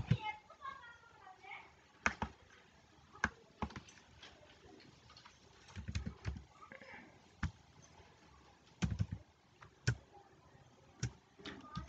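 Keys are typed on a computer keyboard while an online petition form is filled in, giving scattered sharp clicks and short bursts of taps at uneven intervals under a person talking.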